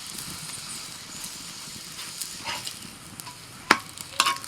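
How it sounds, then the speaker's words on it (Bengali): Cauliflower paratha fries in a little oil in a pan, giving a soft, steady sizzle with a few sharp clicks and scrapes near the end, close and fairly quiet. "অল্প অল্প তেল দিয়ে ভেজে নেব।"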